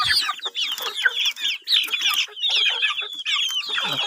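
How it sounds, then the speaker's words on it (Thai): Several chickens cluck and squawk close by in quick overlapping bursts as they are released from their coop at a rural farm, busy and continuous throughout. "เฮาสิปล่อยไก่น้อยก็เนาะ"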